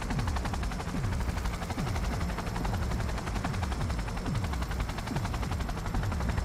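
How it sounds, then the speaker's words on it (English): Helicopter in the Cyberpunk 2077 video game, a loud steady rotor drone running throughout under dense rapid machine-gun fire and explosion-like thumps, with no talk. "We gotta wait for this helicopter to descend."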